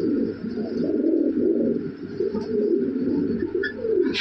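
A flock of large imported jumbo red Lahori pigeons cooing steadily and close by, a dense, continuous low burbling that rolls on without pause and with no voices.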